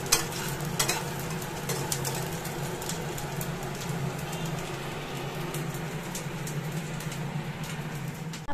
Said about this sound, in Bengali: এখন এই পটল ভাজাভাজি চলছে